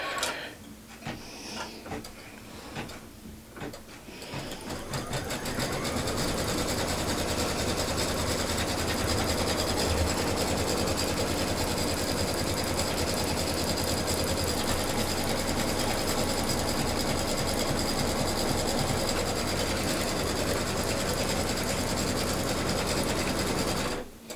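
Embroidery sewing machine stitching a box outline on fabric for a fabric basket, a fast continuous mechanical rattle with steady low hum, starting after a few seconds of quieter clicks and running on loudly.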